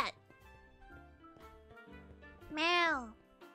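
A cat meows in a Minecraft game, one rising and falling cry near the end over busy background game music.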